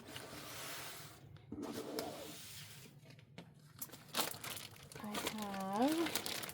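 Scrapbook paper crinkles and rustles in short bursts as it is slipped into an envelope, close and intermittent, with a voice speaking briefly near the end.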